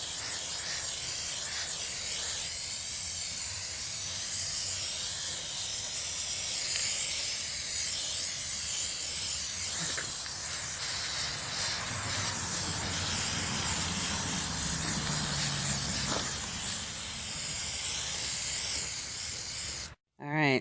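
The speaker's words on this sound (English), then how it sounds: "just spray it until it's nice and even all over" An aerosol spray can coats EVA foam cosplay armor in one long, steady, close hiss that runs without a break for about twenty seconds, then cuts off abruptly.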